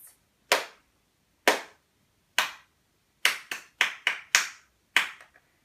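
Hand claps ring out one at a time, sparse at first and then quicker in a short run, crisp and close with no talking.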